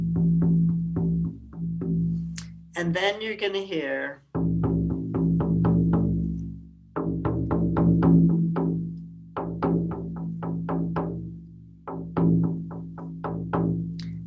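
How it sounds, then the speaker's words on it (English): A shamanic drumming track pounds out a rapid, steady beat of evenly spaced strikes, with a brief stretch of speaking voice over it near the start. "So the drumming track is going to sound like this."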